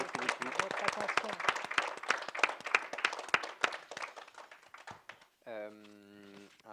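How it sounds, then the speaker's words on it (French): Audience clapping for author Adèle Rosenfeld at a literary talk on writing disappearance, a sparse, uneven round of claps from a small crowd that fades out before a voice begins speaking. "je crois qu'on peut vous applaudir très fort"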